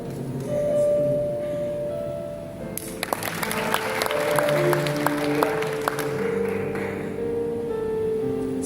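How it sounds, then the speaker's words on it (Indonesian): A congregation at a church worship service claps for the pastor, a dense burst of applause that swells for about four seconds with sharp individual claps, then tapers off under lingering room sound and soft music. "Berikan tepuk tangan dulu dong untuk Bapak Gembala."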